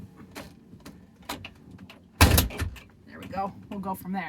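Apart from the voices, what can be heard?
door being shut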